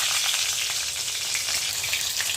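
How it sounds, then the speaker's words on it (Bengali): Green chillies and nigella seeds hit hot oil in a kadai, crackling and sizzling loudly and continuously at close range with no voices. "এরপরে কালো জিরা ফোড়ন দিয়ে দিচ্ছি, আর দিয়ে দিচ্ছি কাঁচা লঙ্কা।"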